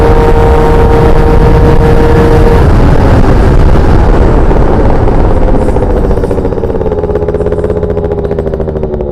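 A Yamaha Jog scooter's small engine runs loud and steady, close up, with a rough buzzing drone and shifting pitch as it revs along, holding without cutting out.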